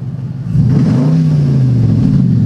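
A Dodge car's engine revs and its exhaust is heard from outside: a low idle jumps into a loud, throaty roar that rises and then eases back while staying strong, close and alone.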